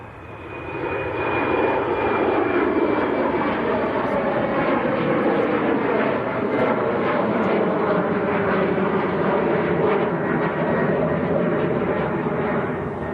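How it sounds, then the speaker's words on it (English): A KLM Embraer E190 jet airliner takes off for Amsterdam from Manchester Airport, a loud steady engine roar that builds quickly and holds for the rest of the clip with no breaks. "KLM to Amsterdam. Embraer E190."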